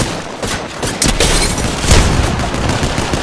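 Gunfire in the battle-royale video game Apex Legends: rapid bursts of shots and booming blasts fill the clip continuously, loud and dense, with no talking.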